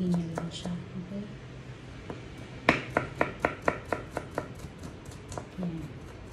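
A knife chops ginger on a cutting board in a quick run of about a dozen crisp, evenly spaced strikes, preceded by softer scattered taps, with a person talking quietly in the background.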